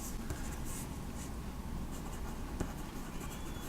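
Soft, continuous scratching of a pencil moving across paper, with faint scraping strokes and light taps, close and quiet.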